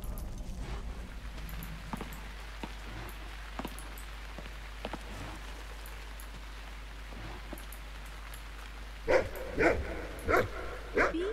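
A dog in the video game The Cave lets out a few sharp barks in quick succession near the end, after a long quiet stretch of faint ambient patter and small ticks.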